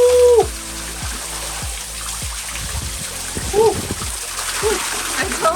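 Water splashes as a hiker dips a hat at a desert waterfall swimming hole on the Romero Pools trail in Arizona, with a string of short, close splashes and trickles over steady falling water and brief voices.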